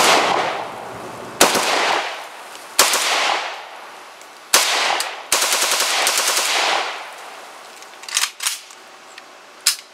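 Sharp, loud gunshots from an Arsenal SLR104FR AK-74 rifle in 5.45x39, fired as single cracks and quick strings with ringing decay between them, ending in a few closer-spaced shots, with no speech.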